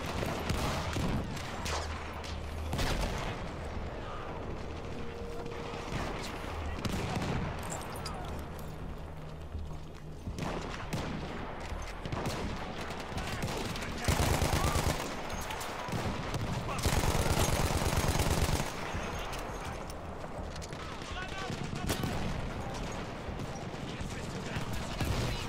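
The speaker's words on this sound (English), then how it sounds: "Looks like there's a mounted gun here." A mounted gun firing in a video game: sustained bursts of automatic gunfire and mechanical clatter layered under game sound and music, with dense loud stretches and a couple of heavier volleys.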